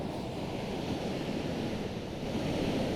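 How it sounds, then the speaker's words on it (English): Ocean surf breaking at a beach where surfers ride, a continuous roaring wash of waves mixed with wind buffeting the microphone, steady and fairly loud with no voices. "It's pretty good waves, actually."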